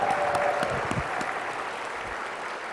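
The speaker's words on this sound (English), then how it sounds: "Let's give them a round of applause." A banquet audience at a state workforce awards dinner breaks into steady, dense applause that fills the room evenly and tapers slightly toward the end, with no voices standing out above it.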